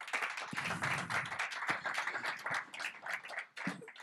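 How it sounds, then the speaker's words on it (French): An audience at a business breakfast conference applauds a speaker being introduced, with a dense, steady patter of many hands clapping at moderate volume for about four seconds and no talk over it. "On peut applaudir Monsieur Arthur Millet."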